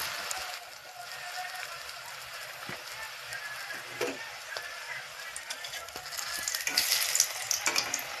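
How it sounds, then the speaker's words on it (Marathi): A green chilli dropped into hot oil gives a moderate, bubbling sizzle with crackling pops that grow denser toward the end, with some faint voice in the background. "आता एक मिरच्या पण तळून तेलामध्ये सोडून पाहूया"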